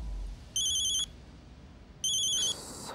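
A high electronic phone ring trills in two bursts with a pause between them, clear against a quiet background.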